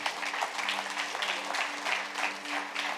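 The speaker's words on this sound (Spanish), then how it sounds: "Le da ese aplauso" Church congregation applauding throughout a Spanish-language worship service, a steady wash of many hands clapping with a faint sustained tone beneath.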